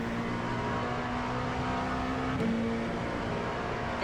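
An LMP2 prototype race car at Sebring in iRacing accelerating at full throttle, a constant loud engine drone with a steady tone that shifts upward briefly partway through.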